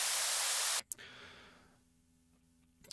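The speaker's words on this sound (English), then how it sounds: "to give a little bit more in the high end, we have this white noise" A burst of bright, hissing white noise layered into a music track fills the first moment, then cuts off abruptly, leaving a faint airy wash that slowly fades.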